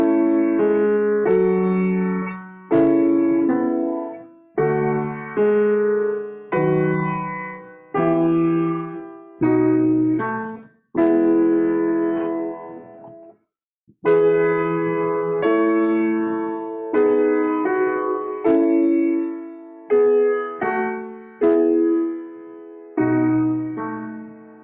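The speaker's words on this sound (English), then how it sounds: "And the entire four-part example sounds like this." A J.S. Bach four-part chorale moves through a long series of sustained, full chords with brief breaths between phrases. It sounds loud and steady, with no talking over it.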